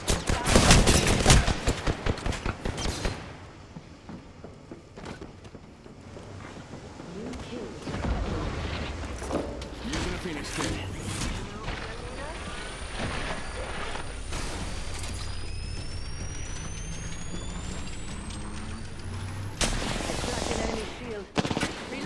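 Rapid automatic weapon fire in the Apex Legends game, dense loud bursts at the start, then sustained rattling shots and mechanical clatter under game noise, with voices talking over parts of it.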